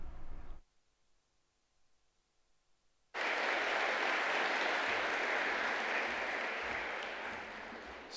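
After a near-silent pause, an audience at the GEO Week ministerial summit breaks into sudden, full applause that stays dense and even for several seconds before easing slightly.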